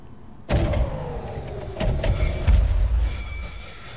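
A video game train jolts into motion with a loud mechanical clunk, then rumbles and hums along before braking with heavier low thuds as it slows to a stop; no voices.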